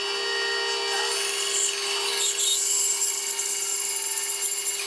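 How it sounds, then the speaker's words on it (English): Bandsaw cutting a kerf into a piece of wood in a workshop, a steady close motor whine with a gritty rasp of the blade through the wood. "we're just gonna saw a kerf into this piece of wood, turn the bandsaw off"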